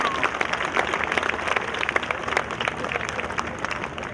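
An outdoor Memorial Day crowd at Fort Custer applauds a community country band, dense steady clapping throughout, fairly loud and close, with some voices mixed in.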